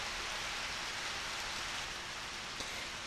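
Steady, even rain hisses throughout in the PS1 game Harvest Moon Back to Nature, a continuous wash of falling water with no voices.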